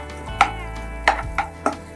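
Vegetables with carrots cooking in a pan, with four short clanks of a spoon or spatula against the pan over a steady low hum of cooking, close and moderately loud, no talk.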